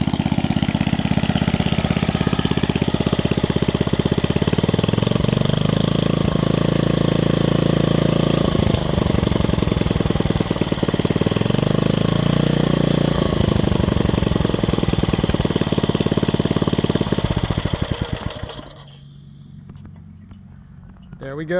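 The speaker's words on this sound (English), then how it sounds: "I'll show you that it throttles up and throttles down without any issue, no smoke." A rebuilt vintage electric-start Briggs and Stratton engine runs loud and close, its steady chugging rising and falling as the throttle goes up and down, then cuts out near the end.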